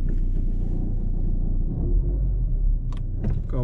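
A car engine with its hood open rumbles at a steady idle, a low, continuous drone close by, with a couple of faint metallic clicks near the end.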